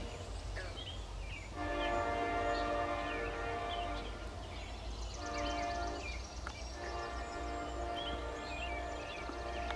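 CSX freight train rolling past with a trailing locomotive, a steady loud rumble of wheels and cars with long sustained squealing tones, continuous for the whole stretch with faint birds behind.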